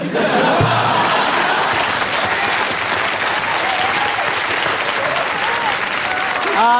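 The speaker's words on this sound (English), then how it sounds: "Big round of applause for everyone here." Loud, sustained applause from a television panel show's studio audience, filling the whole stretch evenly, with a few whoops and voices riding over the clapping.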